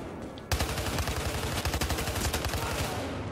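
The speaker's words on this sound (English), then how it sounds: "This may be my favorite gun so far, just the hip fire." Rapid automatic hip-fire from a gun in Battlefield Hardline multiplayer, a dense, loud burst of shots rattling continuously for about three seconds after a brief quiet start.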